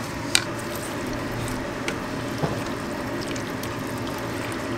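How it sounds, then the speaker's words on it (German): Meat is stirred into liquid in a cooking pot, producing a continuous wet sloshing and squishing close by, with a few light knocks of the spoon against the pot. "Rühre erstmal alles schön. Ich gebe jetzt schon mal das Fleisch auch hinzu"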